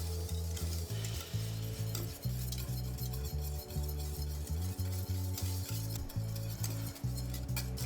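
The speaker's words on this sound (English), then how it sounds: "I'm just going to stir in a little at a time" Stock being stirred a little at a time into gravy in a pan: a soft, steady scraping and swishing with a faint sizzle, set over a prominent pulsing low hum.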